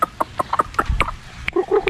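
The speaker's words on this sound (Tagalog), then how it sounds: "Yung mga manok." Chickens cluck in short, irregular bursts close by, several calls overlapping in quick succession.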